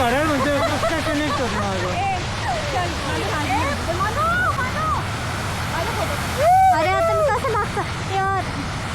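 A steady roar of a waterfall at Kondeshwar rushes in the background while several people talk and call out over it.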